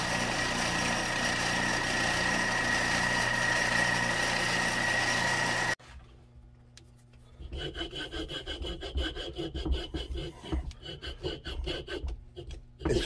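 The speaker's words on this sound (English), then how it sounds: "It's just a little too much to take off with the hardwood, so I'm gonna cut it with this coping saw." A coping saw cuts a hardwood plug for a pocket powder horn with a French spout, giving steady rhythmic rasping strokes that start after a steady hum cuts out and grow louder and busier.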